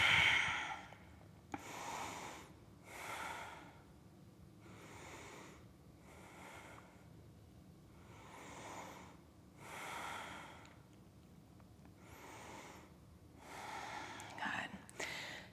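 Slow, deliberate breaths during a yoga twist in a vinyasa flow, a series of soft, airy inhales and exhales in an even rhythm, close and quiet with no talking.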